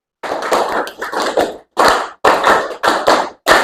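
Group of people in a classroom clapping hands together in counted bursts, a run of quick claps, then a short pause, then several more short clusters of claps, close and crisp with no talking.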